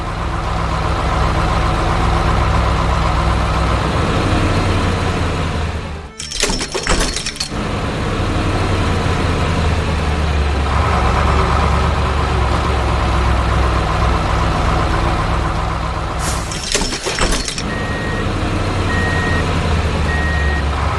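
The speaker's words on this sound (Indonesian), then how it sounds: "Truk derek merah datang dengan gagah untuk memberikan bantuan." A heavy red tow truck in a 3D construction animation idles with a deep, steady engine rumble throughout, broken twice by short bursts of sharp, clattering impact noise before the loud drone resumes.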